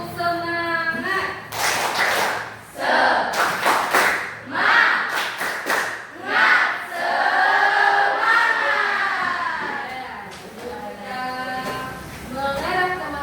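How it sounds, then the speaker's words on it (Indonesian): A secondary-school classroom does a rhythmic spirit clap, with bursts of group claps in patterned sets mixed with loud chanting and shouting voices throughout. "kita tepuk semangat dulu"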